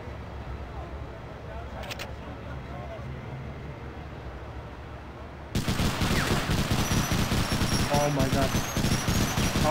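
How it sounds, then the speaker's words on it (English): Sustained machine gun fire in the World War II shooter Medal of Honor Underground, a continuous rattling barrage that grows louder and denser halfway through, heard up close with no voices over it. "Oh, machine gun."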